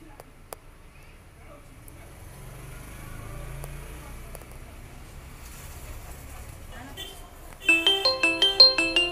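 An incoming call ringtone on a Mi A2 phone starts near the end, a loud pulsing electronic melody close by, after a stretch of faint background noise.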